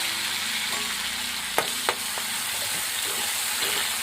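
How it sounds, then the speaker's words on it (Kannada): Chopped onion and tomato frying in hot oil in a village kitchen, a loud, steady crackling sizzle with a couple of sharp stirring knocks, close and continuous without talk. "ಚಂದ ಫ್ರೈ ಮಾಡ್ಕೋಬೇಕ್ರಿ ಎಣ್ಣೆಗ ಅಂದ ಕಡೆಗೆ ಚಂದ ಹಾಕ್ತೀವನ್ರಿ ಅದಕ್ಕೆ ಚೆಂದಾಗಿ ಫ್ರೈ ಮಾಡ್ಕೋತೀನಿ ರೀ ಎಣ್ಣೆ ಕಡಕ್ಕಾಗಿ"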